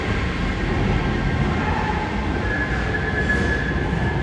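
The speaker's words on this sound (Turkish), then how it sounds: "M1 metro hattıyla mutlaka bir yolculuk yapın." A Budapest M1 metro train runs through its tunnel with a loud, continuous low rumble and rolling wheel noise, plus a faint high whine from the wheels or motors, heard close up from inside the train with no voices.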